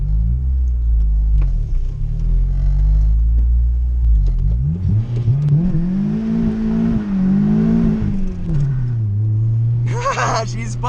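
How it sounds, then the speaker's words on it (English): A 2002 Acura RSX with 300K miles revs hard and spins its tires, a loud close engine rumble climbing and wavering in pitch as the revs rise and hold, with someone talking over it. "let's see if I can spin."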